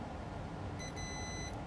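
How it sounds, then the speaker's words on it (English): A digital multimeter in continuity mode gives one steady electronic beep lasting under a second while its probes bridge a 1 ohm resistor on a damaged USB flash drive, heard close over faint room hiss. "1 ohm resistor is gonna beep when we have the meter in continuity mode"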